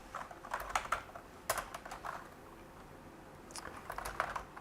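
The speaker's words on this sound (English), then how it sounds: "I need to be careful with typing that one." Typing on a computer keyboard comes as quiet, irregular bursts of key clicks with short pauses between them, close by and alone.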